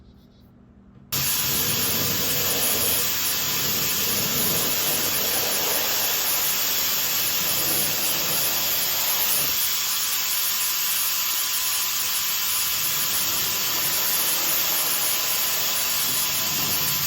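A loud, steady paint sprayer hiss starts abruptly after a second of quiet and runs continuously, close up, spraying a wooden dresser, with no talking.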